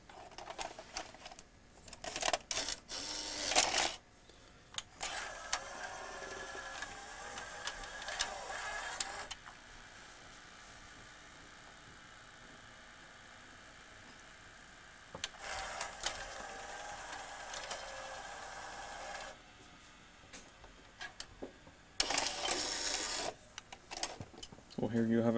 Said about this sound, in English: I'll show you again the tape mechanism in action.